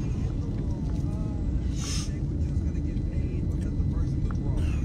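Road traffic noise while driving in Atlanta, a steady low rumble of cars and engines throughout, with a brief hiss passing near the middle.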